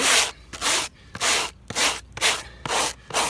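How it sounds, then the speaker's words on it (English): Wire brush scrubbing old wax off plastic beehive foundation, steady back-and-forth strokes in a regular rhythm, loud and close with a harsh bristly rasp on each pass. "I hit it with a wire brush"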